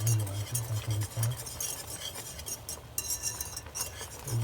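A utensil scrapes and clinks steadily against a pot while chicken yakhni boils, with continuous stirring sounds close up over a constant bubbling, hissy background.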